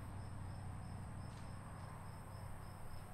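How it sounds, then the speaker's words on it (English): Crickets chirp steadily through a sculpture park, a continuous high trill holding at an even level from start to finish, with no voices over it. "I hear crickets."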